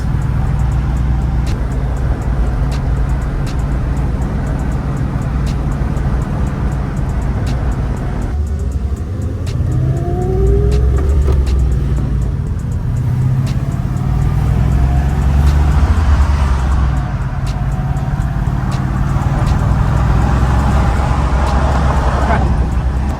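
A V8 station wagon with unfinished, bouncy suspension and unbolted seats drives along, its engine rumbling steadily and close throughout, with brief shifts in tone as gears change and no talk over it.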